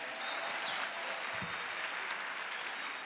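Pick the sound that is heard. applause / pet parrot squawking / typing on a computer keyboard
applause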